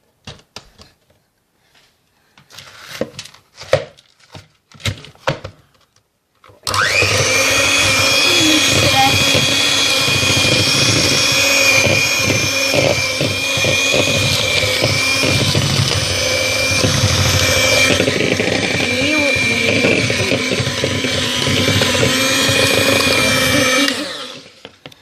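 An electric blender roars loud and steady for about twenty seconds, whirring a cocktail with pomegranate, after a few sharp knocks and quiet voices at the start.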